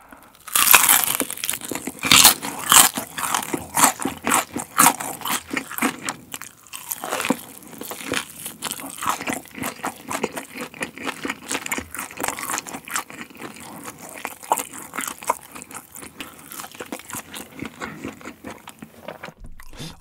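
Close, loud crunching and biting of crispy carbonara buldak fried chicken, dense crackling bites and chewing running steadily throughout with no talk.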